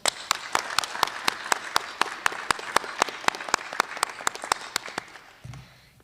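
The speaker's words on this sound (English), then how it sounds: "giving another round of applause to our award recipients" A single pair of hands claps in a steady, even rhythm, sharp and close, before stopping abruptly.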